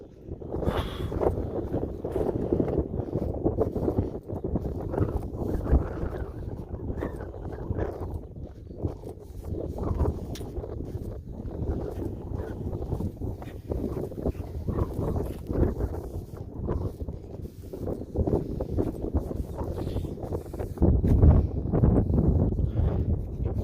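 Strong gusty wind buffets the microphone throughout an outdoor walk in sunshine, a loud, steady low rumble with fluctuating bursts that grows stronger near the end, with faint footsteps beneath.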